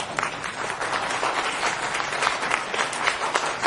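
About sixty theatre spectators at the Théâtre Ovale applaud the cast after a performance during the Avignon Off festival, a dense, even wash of many hands clapping, sustained and fairly close, with no distinct voices.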